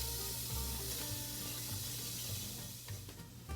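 Chopped aromatic vegetables sizzling gently in olive oil and butter in a preheated pan, a continuous soft frying hiss with faint scraping near the end, no voices.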